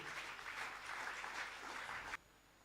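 Church congregation applauding together, a sustained dense patter of clapping that stops abruptly near the end, leaving quiet room tone.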